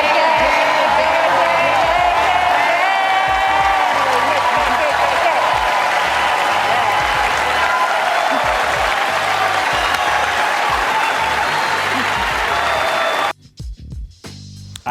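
The Oscars ceremony audience claps, laughs and cheers as a continuous wash of applause, with a voice talking prominently over it. The sound cuts off abruptly near the end.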